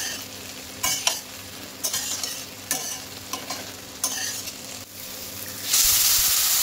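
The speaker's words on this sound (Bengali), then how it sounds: "সয়াবিনটা দিয়েও ভালোভাবে একটু কষিয়ে নেব মশলার সাথে" Fried soybean sautéed with potato, pointed gourd and spices in a pan: a soft sizzle under repeated spatula scrapes and clacks, ending in a louder burst of hissing.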